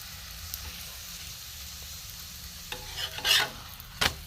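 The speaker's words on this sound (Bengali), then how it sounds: "এপিট ওপিট করে ভালো করে ভেজে নিতে হবে লাল লাল করে" Soft parathas frying in a pan, turned side to side until reddish-brown: a low steady sizzle with a few brief stirring scrapes and clatters near the end, quiet and close with no talk.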